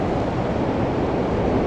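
Ocean surf rolls in steadily on the rocky Welsh coast near Abermawr Beach, a constant broadband wash mixed with wind noise and no voices.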